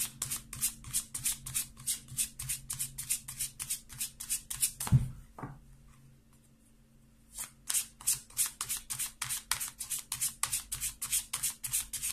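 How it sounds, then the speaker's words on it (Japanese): Tarot cards being shuffled by hand: rapid, rhythmic riffling flutters close up, a soft knock midway, a brief pause, then the quick shuffling resumes, with no talk. "じゃあタロットシャッフルしていきます"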